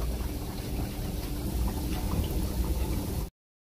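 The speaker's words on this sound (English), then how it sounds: "It's frying nicely." Nigerian akara, black-eyed pea fritters, sizzle in hot oil, a dense, steady crackling and bubbling heard up close for a few seconds before cutting off abruptly.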